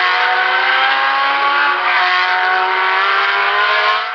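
Race cars at the 1973 24 Hours of Le Mans roar loudly and steadily throughout, a dense sustained engine drone with no voices.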